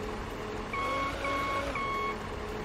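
Reversing beeps from a forklift in the Beer Factory Simulator video game, three evenly spaced electronic tones repeating over a steady engine drone, close and moderately loud with no talking.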